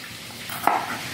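Sliced bitter gourd (ampalaya) sautéing in a pan: a steady soft sizzle with a single sharp clink of utensil against the pan partway through, close and without speech.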